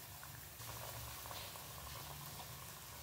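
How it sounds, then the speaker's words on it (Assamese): Three raw banana cutlets fry in hot refined oil over a medium gas flame, giving a steady, close, even bubbling sizzle that holds throughout without a break. "তেল গৰম হোৱাত গেছৰ ফ্লেমটো মিডিয়াম কৰি 3টা কাটলেট মই তেলত লৈ ল'লোঁ।"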